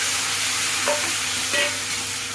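Boiled carrot, beans, drumstick and green peas are stirred into sautéed onions in a pan for Tirunelveli sodhi kulambu, with a steady sizzle throughout and a couple of scraping strokes of the spoon.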